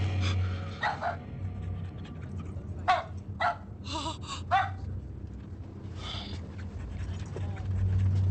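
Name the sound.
dog panting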